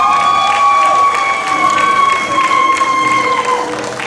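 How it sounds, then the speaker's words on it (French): A graduation crowd at a Bible theology institute ceremony applauds and cheers for an honoree, with loud clapping and shouts under sustained whistle-like tones and some background voices. "Applaudis docteur Betty Michel."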